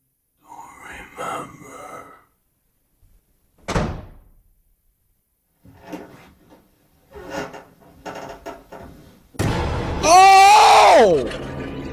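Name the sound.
door slamming in a horror video game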